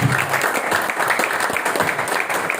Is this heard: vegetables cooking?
no